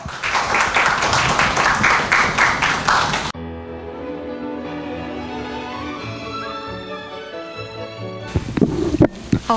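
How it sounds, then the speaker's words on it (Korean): An audience at a university best-practice presentation event gives a welcoming round of applause, brisk and fairly loud for about three seconds, then gives way to sustained tonal music before a short burst of noise at the end. "큰 박수로 맞이해 주시면 감사하겠습니다."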